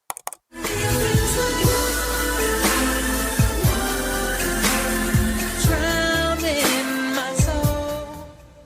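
A disputed track plays as a full studio mix with a steady beat, bass and layered vocals and instruments, loud and continuous throughout with no talk.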